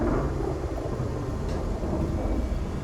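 Steady rain hisses over a deep, rolling rumble of thunder during a storm in the zombie survival game Project Zomboid, continuous and fairly loud with no voices.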